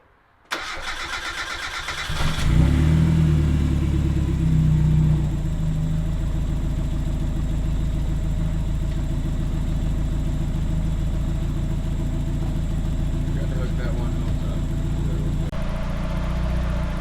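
A turbocharged Mazda Miata engine, freshly fitted with a relocated oil cooler and filter, cranks briefly, catches, then settles into a steady, loud, even idle running close by with no talking.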